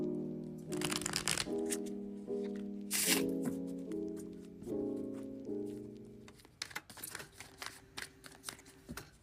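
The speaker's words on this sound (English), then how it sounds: "let's begin by shuffling your cards" Tarot cards being shuffled close by in quick riffling bursts, with brief pauses between runs and softer flicks and taps toward the end, no voice present.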